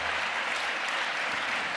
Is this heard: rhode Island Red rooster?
no